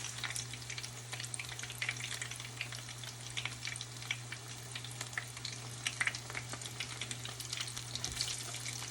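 Corn fritters sizzle in a frying pan, a steady fine crackle of hot oil continuing throughout at moderate level, with a low hum underneath.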